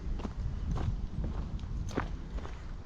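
Soft irregular hoof thuds on the ground, several slow steps close by against a low outdoor background.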